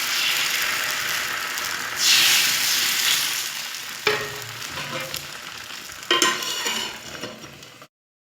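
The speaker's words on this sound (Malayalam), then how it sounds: "ഇനി എണ്ണയൊക്കെ തേച്ച് കൊടുത്തിട്ട് നമുക്ക് ഓരോരോ അപ്പങ്ങളായിട്ട് അങ്ങ് ചുട്ടെടുക്കാം കേട്ടോ." Appam batter sizzles steadily on a hot pan, with a couple of sharp scraping clatters partway through before the sound cuts off.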